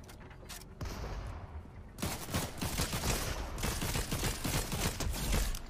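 Continuous dense gunfire and crackling effects from a Fortnite match, loud and unbroken, with a brief lull before a heavier burst of rapid shots that carries on to the end.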